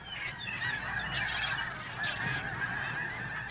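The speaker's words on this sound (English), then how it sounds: "See all the seagulls way out there?" Repeated honking calls of seagulls ring out over a steady broadband wash, moderately loud and continuous, with overlapping cries throughout.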